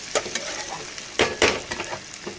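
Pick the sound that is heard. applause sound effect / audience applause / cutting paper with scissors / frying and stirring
frying and stirring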